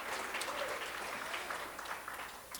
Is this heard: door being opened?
no